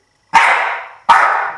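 A dog gives two sharp, loud barks close by, spaced under a second apart, each a single burst with a quick attack and short tail, in an otherwise quiet room.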